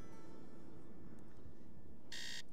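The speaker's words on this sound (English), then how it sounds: "Let's set the alarm." An alarm clock buzzer from the Nancy Drew game set in the Royal Tower sounds as a short, loud electronic burst near the end, following a low, steady background hum.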